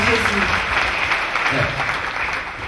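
A congregation at a deliverance service claps for Jesus Christ, a sustained wash of many hands with some voices mixed in underneath, steady and fairly loud throughout.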